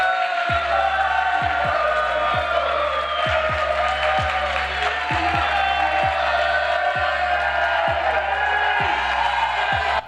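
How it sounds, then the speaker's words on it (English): A large live political rally crowd roars with sustained cheering and possible booing, a continuous loud wash of voices with periodic low thumps running throughout. "I can't tell if they're cheering or booing or both"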